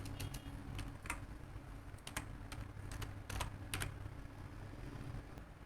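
Code typed on a computer keyboard, a string of quiet, uneven key clicks in short runs over a low steady hum, with no voices.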